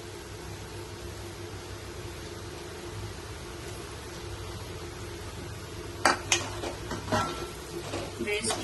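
Separated egg white frying in a pan, a soft, steady sizzling hiss heard up close, followed near the end by several sharp utensil clinks against the pan.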